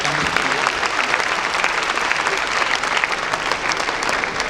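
Audience at a fintech panel discussion claps steadily throughout, a full dense round of applause without pause.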